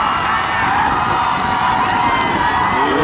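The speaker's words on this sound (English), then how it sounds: "Fans, nice round of applause for both teams" Steady crowd noise at a boys varsity lacrosse section final, Baldwinsville versus West Genesee, with continuous cheering and applause-like roar, loud and sustained throughout.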